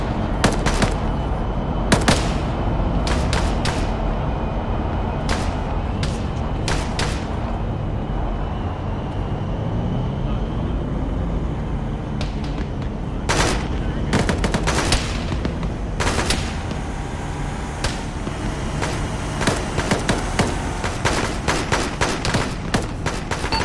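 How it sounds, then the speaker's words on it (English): Arma 3 gunfire crackles in repeated rapid bursts and single shots over a constant background rumble, with some shots near and loud and others more distant. "Vehicles, we're taking fire from the north"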